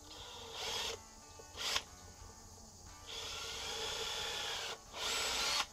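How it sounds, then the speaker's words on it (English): A drill pre-drills a 2x4 for a screw in three or four bursts of buzzing whine with brief gaps between them, fairly close and steady, with no talking over it. "I'm going to pre-drill it."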